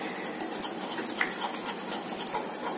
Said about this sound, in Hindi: अब इसे हमें 1-2 मिनट के लिए इसी तरीके से चलाते हुए इसे पका लेना है, जिससे कि मिल्क पाउडर का कच्चापन खत्म हो जाए।